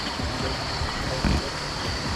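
Water of a river rushing steadily beneath a bridge at night, a broad continuous flowing wash with a brief louder surge partway through.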